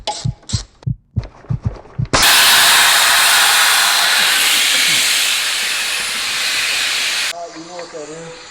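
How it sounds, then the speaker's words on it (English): A loud, steady hiss from the air conditioning of a Jetta MK7 project car bursts in after a few seconds of short knocks and a voice, holds for about five seconds, then cuts off to a low hum. "That's your air conditioning."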